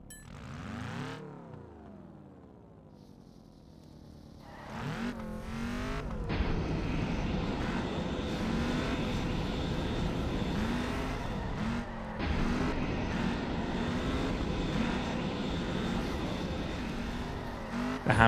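A car driven around in a poorly reviewed Steam video game, its engine droning and revving steadily with shifting pitch and brief skidding swells, loud and continuous throughout.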